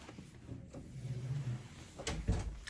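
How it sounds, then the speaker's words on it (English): An indoor door pushed shut, a soft low thump with a brief rattle near the end of a quiet room, preceded by faint shuffling. "I'm gonna have to quick get up and shut this door"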